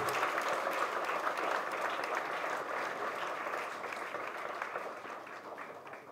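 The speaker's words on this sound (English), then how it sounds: "Huge round of applause, ladies and gentlemen," Audience applause at a short film launch event, a dense, steady wash of many hands clapping that continues throughout and fades only slightly toward the end.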